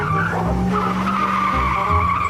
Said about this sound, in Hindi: चल भाई जल्दी से गाड़ी पीछे ले ले।